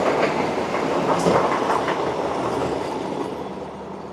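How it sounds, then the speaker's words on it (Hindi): Dehradun–Delhi Vande Bharat Express runs on rails with a steady, loud roar and rhythmic clatter of wheels that slowly fades toward the end, heard without talk. "देहरादून दिल्ली वंदे भारत एक्सप्रेस।"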